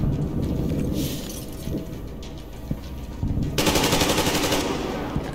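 Rapid automatic gunfire from enemies in Metro Exodus crackles continuously in dense bursts, growing louder and harsher toward the end over a steady low rumble.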